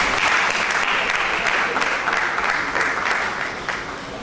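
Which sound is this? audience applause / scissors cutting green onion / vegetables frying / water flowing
audience applause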